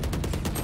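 Rapid video game gunfire rattles out in a quick, evenly spaced burst of about six loud shots over a dense, muffled backdrop.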